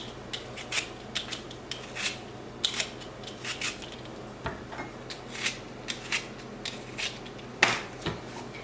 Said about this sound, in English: I use my vegetable peeler to peel the skin